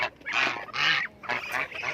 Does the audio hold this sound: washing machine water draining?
no